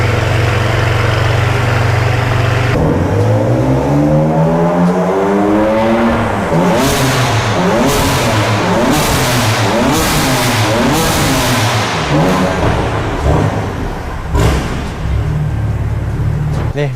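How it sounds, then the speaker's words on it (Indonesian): A BMW M4 with a modified exhaust fires up from cold with a sharp bark, then is revved repeatedly in loud, close blips that rise and fall over a raised idle, with voices talking under the engine. "Kita dengar suara gebernya dan juga suara cold startnya."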